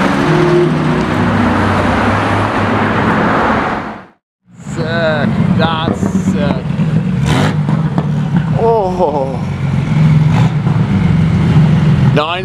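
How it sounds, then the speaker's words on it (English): A Porsche 964 Turbo drives by on a street, its engine roaring loudly, then a brief gap and more passing traffic noise, with excited voices talking over it. "No, it's a 964 turbo. You can hear that."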